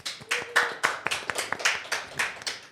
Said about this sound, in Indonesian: Boleh tepuk tangan untuk Mas Fajar.